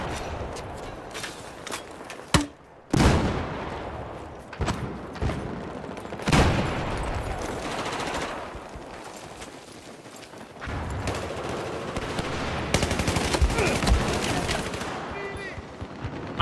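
Gunfire in an online Battlefield match: bursts of rapid automatic shots and single cracks, some near and loud, others farther off, mixed with footsteps and action noise under someone talking.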